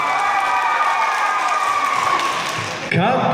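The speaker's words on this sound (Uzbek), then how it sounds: "Yo'q, baqirib qarsak chalamiz-ku." First-grade schoolchildren clap and shout together, a loud sustained mass of high young voices and claps that keeps going, then swells into a fresh burst near the end.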